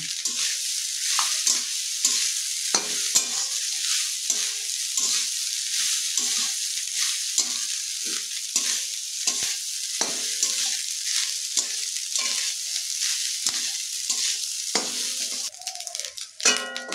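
Paneer fried rice is stir-fried in a pan: a continuous close sizzle broken by rhythmic scraping and tossing strokes of a spatula, with a few metallic knocks, and no voices.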